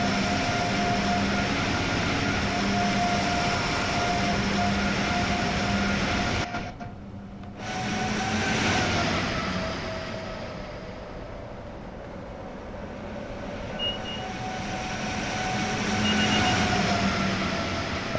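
An Amtrak Acela Express rumbles past in the Train Sim World 5 game on PS5, a continuous loud roar of wheels and rail noise with a brief sudden dip before the rumble builds again and carries on.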